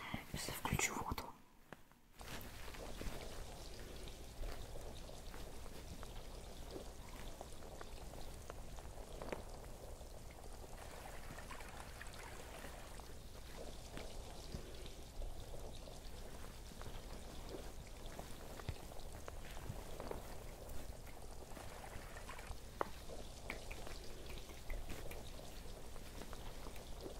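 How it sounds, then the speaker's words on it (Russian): Steady broadband rush of running water from a tap, continuous and close, with a brief quieter gap near the start. "Сейчас включу воду."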